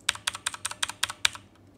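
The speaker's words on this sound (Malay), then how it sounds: "so bunyi blue switch korang dengar dulu, bising macam mana" Close-miked typing on a Machenike K500 mechanical keyboard with blue switches: about seven evenly paced, sharp clicky keystrokes, each with a distinct double click, then silence.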